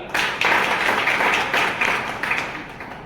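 Audience clapping in two bursts for a man's income at a network marketing meeting, loud dense applause rising, easing, then swelling again before tapering off.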